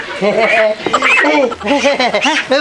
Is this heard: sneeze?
no